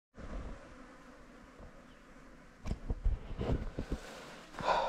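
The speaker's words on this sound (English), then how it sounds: "there's plenty of bees around." Buzzing of bees drifting close and away outdoors on a mountain hike at Mt Blaine, with rustling and a few thumps growing louder toward the end.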